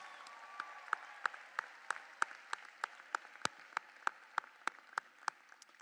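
Audience clapping for graduates at a high school commencement, a sparse, fairly faint round of claps with distinct individual hand strikes at a steady rhythm.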